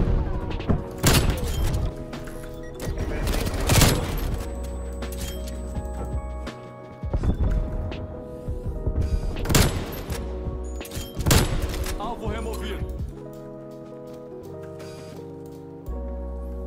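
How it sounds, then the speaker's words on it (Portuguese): Sniper rifle fire in an online shooter game: loud, sharp booms ring out every few seconds, each followed by mechanical clinks and reload clatter, with a faint voice in the background. "Eu curti bastante esse sniper. Nossa, ela tira muito rápido."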